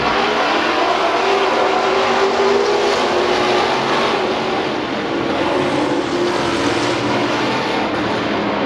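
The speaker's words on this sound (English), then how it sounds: "Green flag racing one more time." Race cars at speed on an oval at Billings Motorsports Park under green-flag racing, a dense, steady roar of several engines filling the whole stretch, loud and continuous with no voices.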